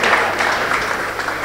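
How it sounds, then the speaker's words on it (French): Audience applause for a speaker invited onto the stage at a French-language event, a steady dense clapping that fills the whole moment at a fairly loud, even level with no voices over it. "sous vos applaudissements s'il vous plaît"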